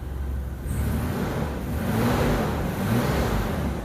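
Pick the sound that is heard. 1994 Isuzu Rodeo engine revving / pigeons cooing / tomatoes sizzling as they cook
1994 Isuzu Rodeo engine revving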